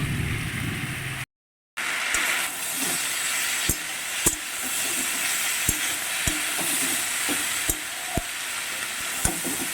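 Tempering spices sizzle loudly in a hot pan on a home kitchen stove, a steady frying hiss punctuated by regular sharp clicks and scrapes of a spoon stirring.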